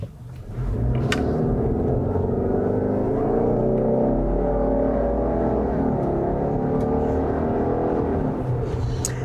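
A Subaru Outback XT with a 2.4-liter turbocharged engine drives past, giving a steady, full engine rumble with a smooth, sustained tone that holds for several seconds without any speech.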